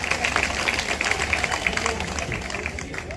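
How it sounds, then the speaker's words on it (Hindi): A political gathering breaks into applause for a member of parliament, a dense patter of many hands clapping steadily for a few seconds before thinning out, with crowd murmur underneath. "लोकसभा के मेंबर ऑफ पार्लियामेंट भाई नवा कुमार सरानिया का जोरदार तालियों के साथ आप स्वागत करें"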